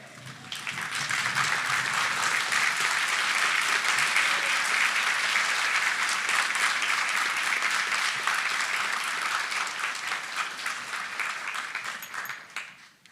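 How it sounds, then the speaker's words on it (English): A large commencement ceremony audience applauds warmly and steadily for over ten seconds, the clapping swelling quickly and then tapering off at the end. "offer a round of applause to thank those who've joined you today"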